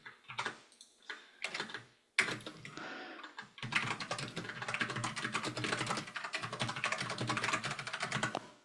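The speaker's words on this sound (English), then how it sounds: "someone have really loud typing" Loud clattering computer keyboard typing picked up by an open microphone during an online meeting, a few short bursts at first and then continuous rapid keystrokes, close and alone without speech.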